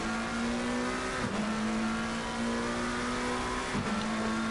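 McLaren and Ferrari GT3 race cars at Zandvoort in Assetto Corsa Competizione, engines howling at high revs along a straight, with two quick gear-shift dips in the steady loud drone, close and continuous.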